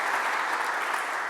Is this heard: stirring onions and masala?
no